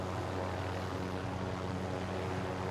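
Aircraft rotor and engine drone of a helicopter flying in the Warzone battle royale video game, a steady continuous hum at constant loudness with no talk.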